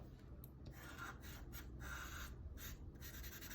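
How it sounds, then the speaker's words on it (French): A Sharpie marker colours the edges of an alcohol-marker drawing on paper, giving faint, close scratchy rubbing strokes in a quick irregular rhythm with no speech. "Je vais prendre pour ça un Sharpie."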